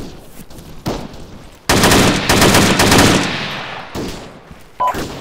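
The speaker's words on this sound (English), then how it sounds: "We're taking some pretty good fire from here." Machine gun fire in the Arma 3 military video game: loud sustained automatic bursts, a long rattling volley in the middle with shorter bursts around it, heard alone with no voices.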